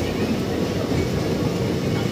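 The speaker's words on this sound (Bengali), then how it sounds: "বোলপুর স্টেশন ছেড়ে দেওয়ার পরে কি সুন্দর গাছপালার ভেতর দিয়ে আমাদের ট্রেনটি যাচ্ছে" The Maa Tara Express, just out of Bolpur station and passing through trees, gives off a constant dense rumble and rushing roar, heard from close by with no break or distinct clacks.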